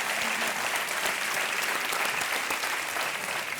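Steady, dense applause from a studio audience on the Hindi quiz show Kaun Banega Crorepati (KBC) season 5, loud and continuous throughout with no talk over it.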